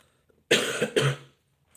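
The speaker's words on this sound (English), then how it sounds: "Yes, I still have a cough." A single harsh cough in two quick bursts, close and loud, in an otherwise quiet room.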